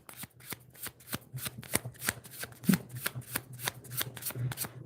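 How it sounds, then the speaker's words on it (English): A deck of tarot cards being shuffled at close range, a steady run of crisp riffling flicks and soft slaps repeating throughout with no talking. "Let me shuffle this."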